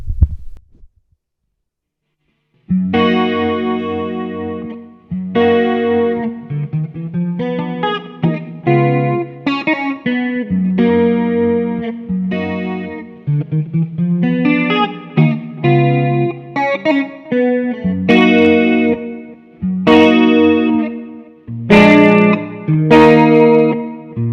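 After a brief thump and a pause, an effects-laden guitar plays a sequence of sustained chords and arpeggiated notes, warm and modulated, with no voices.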